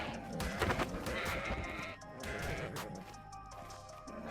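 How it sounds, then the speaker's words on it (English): Sheep bleating in the video game Ark Survival Ascended on the Ragnarok map, several wavering calls overlapping and fairly close, sustained across the moment with no talk. "so we found some sheep"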